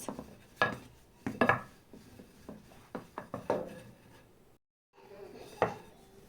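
Samsa dough being rolled out by hand on a floured surface, with soft knocks and rubbing strokes of the rolling pin in uneven bursts, quiet and close, with a brief silent gap.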